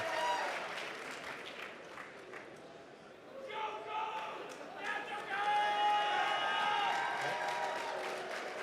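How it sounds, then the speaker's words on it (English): Audience applause and cheering at a QuakeCon 2014 finals party, steady crowd clapping with shouts and whoops rising in the second half, busy and reverberant. "So let's give Cobalt a round of applause."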